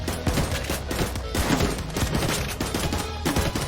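Rapid gunfire from an upgraded tower in the game Tower Defense Simulator, dense bursts of shots repeating in quick succession at steady loudness, with no talk.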